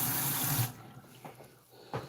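Water pours into a container while making thick soursop juice, a steady broadband rush for most of a second that cuts off, leaving quieter faint trickles and splashes afterward.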